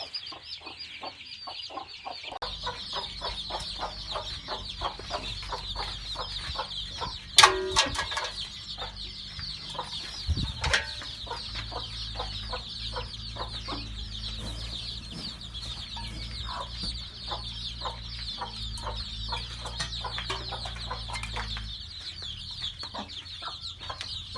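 Native country chickens and chicks on a farm in Madurai keep up a constant chorus of high chirping and clucking, with a few louder calls and a low rumble underneath.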